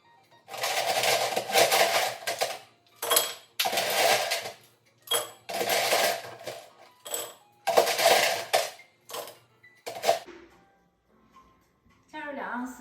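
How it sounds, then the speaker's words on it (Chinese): Ice cubes clatter into a highball glass for a gin and tonic, in several bursts of bright clinking and rattling separated by short pauses. "准备一个高球杯，在高球杯中加入冰"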